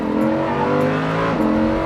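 A Lamborghini Huracan Evo engine hums loudly and steadily on a drive, a close, continuous tone with a slight pitch shift near the end.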